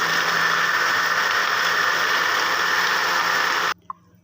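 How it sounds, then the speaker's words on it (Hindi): A kitchen blender whirs loudly and steadily, close by, blending mint lemonade with ice and water, then cuts off abruptly near the end, leaving near silence and one small click. "अब इसको ब्लेंड करेंगे अच्छे तरीके से।"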